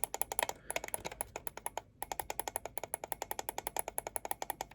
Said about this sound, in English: You got two nice and clicky buttons.